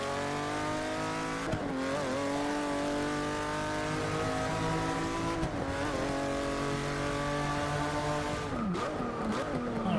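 Race car in Forza Motorsport 6 held at full throttle, the engine climbing steadily through gears with quick dips at each shift and brief tire squeal, loud and continuous with no talking.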